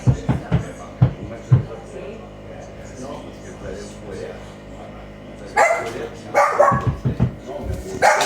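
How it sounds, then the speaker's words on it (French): Newborn puppies whimper and yip in short, sharp bursts, close by. A busier cluster of cries comes near the end, with quieter stretches between them. "Ils ont toujours soif, ces chiots-là. Ils viennent juste de naître."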